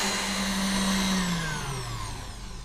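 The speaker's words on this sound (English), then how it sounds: "So we'll let the mixer do its thing and we'll be back." An electric hand mixer whips egg whites for an orange chiffon cake, giving a continuous whirring motor whine whose pitch gradually dips as it works, with no voices.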